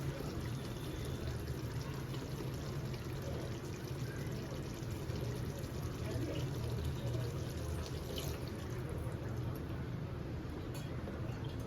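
Water pours steadily into a cooking pot for mutton biryani at home, a continuous rushing stream throughout with faint background noise.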